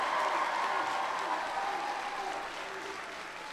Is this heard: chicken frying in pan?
no